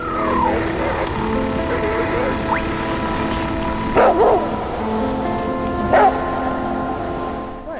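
A dog barks in the survival video game The Flame of the Flood, two short barks a couple of seconds apart over music and ambient game sound.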